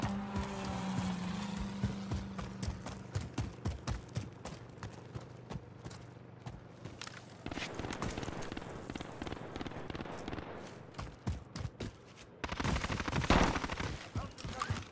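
Rapid bursts of gunfire from Call of Duty: Modern Warfare crackle in a dense, steady stream of sharp shots, growing heavier and louder near the end.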